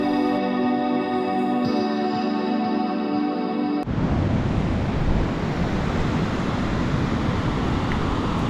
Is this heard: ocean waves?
yes